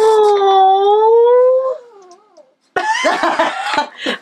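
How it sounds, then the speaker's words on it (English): A dog lets out a long, loud wavering cry close by, its whine sliding up and down before fading, then laughter and voices follow. "the dog cried as she said, "Oh.""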